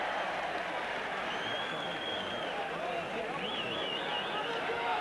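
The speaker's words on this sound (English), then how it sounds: "Crowd screaming for a dismissal." A rugby league crowd at a January 1988 Hull KR versus Salford match screams for a dismissal, a dense, continuous roar with a voice heard over it.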